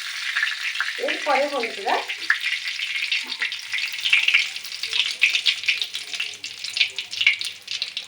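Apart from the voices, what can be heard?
curry leaves frying in oil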